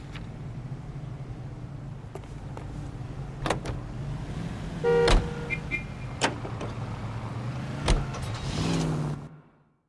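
A car in the video game L.A. Noire runs with a steady low engine drone throughout, broken by a few sharp clicks and knocks and a brief whirring mechanical sound midway, then fades out at the end.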